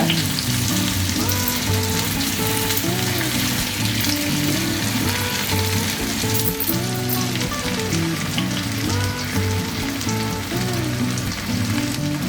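Tandoori chicken fries on a tawa with a loud, dense, continuous sizzle and spatter, heard up close and unbroken for the whole stretch, with no voices.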